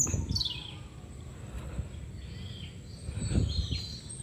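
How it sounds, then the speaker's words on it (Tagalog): Wild birds chirping and singing outdoors near Antipolo, with several short high calls and sweeping whistles at moderate distance over a low background rumble. "May humuhuning ibon."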